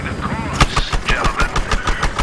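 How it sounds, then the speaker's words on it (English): Rapid bursts of gunfire in the video game Battlefield Hardline rattle in a steady rhythm over a constant engine-like rumble, loud and close. "I think I'm taking some gunfire as well."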